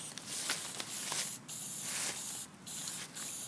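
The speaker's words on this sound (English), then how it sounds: "Don't really spray on it. Just get it to fall on it." Paint hisses from a spray can in short, quiet bursts separated by brief pauses as it mists onto a redhead duck decoy.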